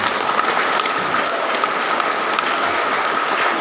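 Loud, continuous applause from an audience at a martial arts association gathering in East Nusa Tenggara, many hands clapping in a dense, steady roar throughout.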